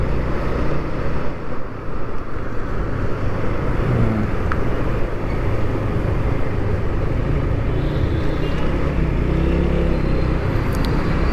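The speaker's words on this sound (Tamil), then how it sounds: "மேலே ஃப்ளைஓவர் ஃபுல்லாக டிராஃபிக்காக இருக்குது." Dense road traffic roars steadily around a motorbike riding through Bangalore, a loud continuous wash of engines and tyre noise with no pauses and no voices.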